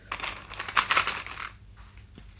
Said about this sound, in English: Clip everything together.